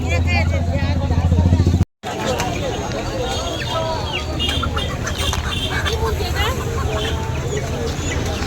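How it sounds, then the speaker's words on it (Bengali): Ducks quack and chickens cluck among the crowd at a busy poultry market in West Bengal, with someone talking up close and market chatter all around. "আর এই এক জোড়া হাঁস আছে এখানে"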